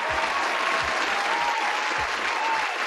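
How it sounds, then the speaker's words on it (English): A live show audience applauds in a steady, even wash of clapping, moderately loud throughout with no pause. "Everyone give a round of applause."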